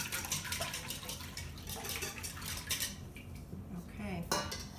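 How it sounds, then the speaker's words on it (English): Wire whisk mixing sugar and water in a bowl, a steady close rapid clatter of metal tines against the bowl with a faint watery slosh throughout, no voices. "I have a wire whisk. I'm just going to mix that up."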